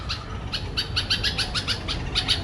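Birds calling around a rooftop garden in the rainy season, a quick run of bright repeated chirps in a steady rhythm, close and fairly loud over a soft low background hum.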